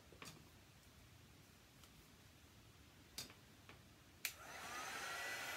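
A hair dryer switches on near the end to dry paint on a sign, its steady rushing blow rising after a few faint clicks and taps in a quiet room.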